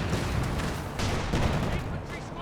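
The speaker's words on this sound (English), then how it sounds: "Heavy mortar barrage and a smoke barrage." Heavy mortar barrage thundering across a Company of Heroes 2 battlefield, a dense, continuous rumble of overlapping explosions and booms, loud and close, with a commentator's voice running underneath.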